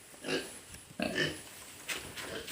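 Pigs on a farm, including pregnant local sows, grunt a few times in short, close bursts, with light background noise.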